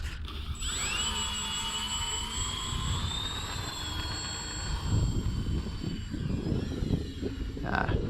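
A Dynam C-47 Skytrain radio-controlled model plane takes off, its whining electric motors rising in pitch and sweeping as it climbs away, with wind buffeting and low rumble growing toward the end.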